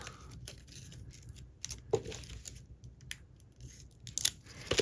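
Scissors snip through a narrow quarter-inch Velcro strip, giving a few short crisp cuts and rasping tears, close and quiet, with no talking.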